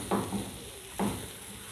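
Mashed potatoes being mixed into an aloo paratha filling, two soft scraping stirs about a second apart, close and quiet over a faint steady background hiss.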